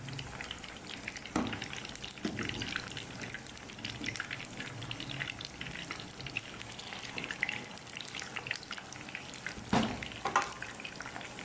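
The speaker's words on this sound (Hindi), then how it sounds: "इनको मैंने हल्का सा फ्राई किया" Potato and chicken kababs frying lightly in a pan give a steady soft sizzle with faint crackle, broken by a few louder clatters near the start and around the ten-second mark, and no talk.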